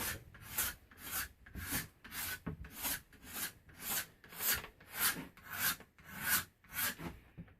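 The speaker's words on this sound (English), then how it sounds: "now take my rasps, and this guy, I have got this smaller rasp right here" Wood rasp shaping the limbs of a yew bowstave, a steady series of about a dozen rhythmic rasping strokes, each a bright scraping push, close and loud with no talking.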